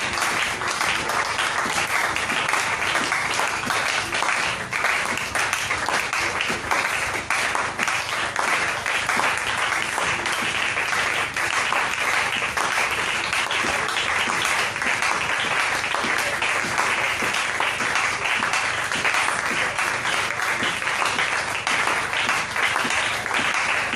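A church congregation fills the room with sustained, dense applause to acclaim the Lord Jesus, a steady roar of clapping that runs unbroken from start to finish.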